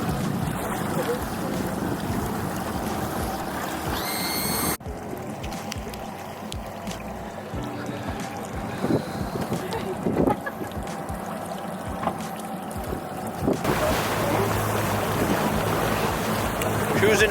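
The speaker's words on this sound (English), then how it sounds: "Cruising out in the North Sea" A whisky-tasting boat cruises on the North Sea off Islay, with a continuous engine and water rush, heavy wind buffeting the microphone and occasional wave splashes.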